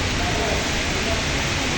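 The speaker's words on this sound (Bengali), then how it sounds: "যেই বৃষ্টি শুরু হয়েছে দেখতেছেন হঠাৎ করে বৃষ্টি একটা বাতাস চালো অন্ধকার হয়ে গেল" Sudden heavy rain driven by wind, a dense unbroken roar of rainfall heard up close at steady volume throughout.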